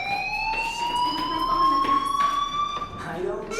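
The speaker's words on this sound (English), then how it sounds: "Hey, do you hear that fire alarm?" A school fire alarm in the game Life Is Strange sounds a steady, piercing electronic tone with a slowly rising pitch, loud and continuous, while a character speaks over it.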